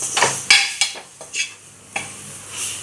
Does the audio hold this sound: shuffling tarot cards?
no